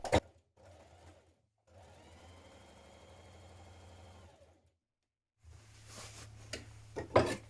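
A sewing machine runs a 1 cm seam on a cuff top in short bursts, a brief run, then a longer steady whir, then a final stretch mixed with handling knocks and clatter near the end.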